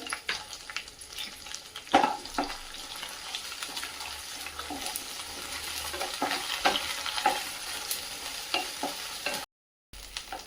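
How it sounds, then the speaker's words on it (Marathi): Crushed ginger and garlic, curry leaves and green chilli pieces fry in a pan for lemon rice. A steady sizzle runs throughout, broken by sharp scraping stirs at irregular intervals. It is close and moderately loud, with no talk and a brief dropout near the end. "ठेचून घेतलेला आल्ला आणि लसूण कढीपत्ता आणि हिरव्या मिरचीचे तुकडे आता आपण हे सगळं छान परतून घेऊया"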